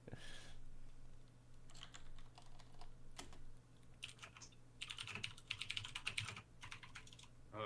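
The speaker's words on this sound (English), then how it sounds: "How loud is my typing? It's probably pretty loud," Rapid typing on a computer keyboard, close and crisp, with bursts of clicking keystrokes separated by short pauses and no voices.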